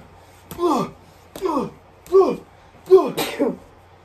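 Four short, sharp sneezes or sneeze-like bursts in quick succession, each abrupt and fairly close, with pauses between.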